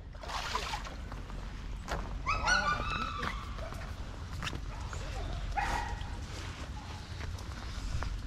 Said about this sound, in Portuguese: O cachorro quer a traíra.